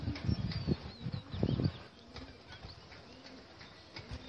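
Pigeons flap their wings in a quick flurry close by, followed by quieter rustling and faint soft cooing in the background.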